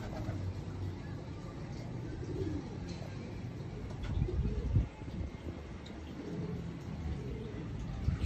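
A golden breeder female pigeon coos softly in a few low, brief bursts, faint against a quiet room background with occasional rustling.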